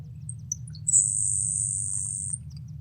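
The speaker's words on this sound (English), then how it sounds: "Has a very insect-like sound" Song of the grasshopper sparrow: a couple of soft, high tinkling ticks, then a long, thin, insect-like buzz held for well over a second, clear and fairly near above a steady low hum.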